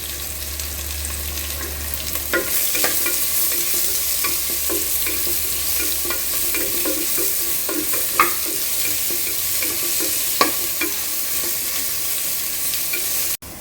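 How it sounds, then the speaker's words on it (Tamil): Chopped onions sauté in a pan with green chillies, giving a continuous sizzle broken by repeated scraping strokes of a stirring spoon, up close and without talk, ending abruptly. "இப்போ நம்ம கட் பண்ணி வச்சுருக்கிற வெங்காயத்தை போட்டு வதக்கிக்கலாம்."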